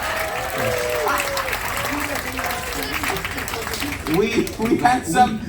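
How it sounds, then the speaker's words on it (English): Audience applause at a Liar's Club game show aboard the Enchanted Princess cruise ship. Steady clapping fills the room, with a voice talking over it as the applause swells toward the end. "genuinely deserves a round of applause"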